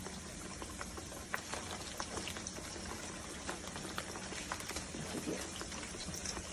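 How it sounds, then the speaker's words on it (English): Fish frying in hot grease sizzles and bubbles steadily, a dense crackling hiss with scattered pops and spits, fairly quiet and close throughout. "You see it bubbling like that? You know it's going to be good."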